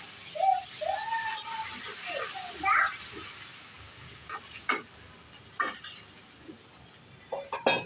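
Water poured into a hot pan while bhetki fish cooks, a hissing sizzle with bubbling and stirring, followed by scattered clinks of a utensil against the pan, close and moderately loud.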